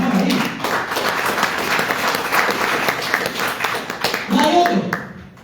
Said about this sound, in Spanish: Dale un aplauso entonces al Señor ahí.